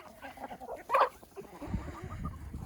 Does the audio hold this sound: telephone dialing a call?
no